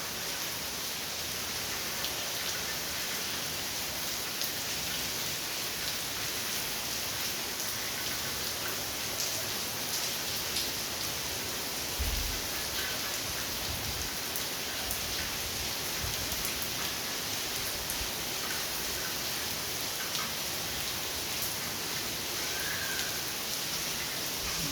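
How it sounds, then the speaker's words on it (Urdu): Heavy torrential rain pours down in Lahore, a dense, steady hiss of downpour on surfaces that never lets up, loud and close with no voices. "بہت ہی دھواں دھار بارش ہو رہی ہے"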